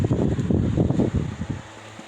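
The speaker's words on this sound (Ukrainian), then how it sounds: "та включати вентилятор. Вентиляція повітря в теплиці." A ventilation fan runs steadily inside a greenhouse of tomato seedlings heated by a small stove, giving a broad, close whooshing hum with slight fluctuations.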